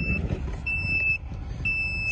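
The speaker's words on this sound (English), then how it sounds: "It's beeping at us." A GOOLOO GT3000 jump starter hooked to a car battery gives three sharp, high electronic beeps at a steady pace over a low rumble, close by.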